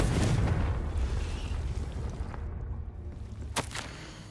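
The Confringo fire spell in Hogwarts Legacy bursts with a loud, rumbling explosion that rolls and fades over several seconds, followed by a couple of sharp cracks near the end.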